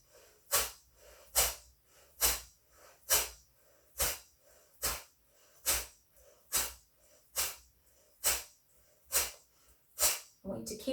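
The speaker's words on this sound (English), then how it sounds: "here we go, inhaling slowly and breathing out forcefully." A yoga breathing exercise of slow inhales and forceful exhales: a dozen sharp, loud, evenly spaced breath bursts through the nose, close to the listener, with a voice speaking briefly near the end.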